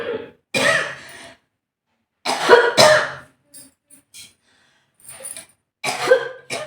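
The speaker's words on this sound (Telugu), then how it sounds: "ఎవరికైనా వస్తుందండి దగ్గు." Coughing during a pranayama breathing practice, several separate bursts of harsh coughs and throat clearing from one nearby person, separated by silence.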